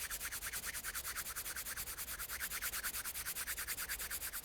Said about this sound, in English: Take your palms, rub them together in front of you.